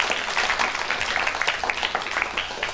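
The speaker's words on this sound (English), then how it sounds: "A nice round of applause" Scattered, moderate applause from a studio audience at a televised campus quiz game, a patter of hand claps spread across the room that holds steady throughout.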